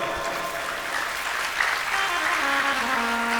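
A large audience at a Hindu religious discourse on the glory of rudraksha applauds steadily throughout, a dense wash of clapping with a faint voice underneath.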